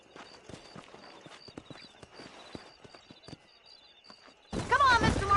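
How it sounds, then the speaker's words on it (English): Horses' hooves clip-clopping at a steady trot in Red Dead Redemption, quick rhythmic thuds close by under occasional talk, ending in a sudden louder burst of noise. "These are fine horses."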